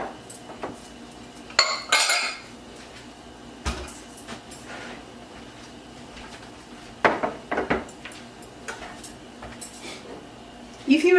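Pots, pans and utensils clink and clatter in a kitchen while cheeses go into a boiling pot for seafood mac and cheese, sharp metallic knocks scattered in brief clusters over a quiet background.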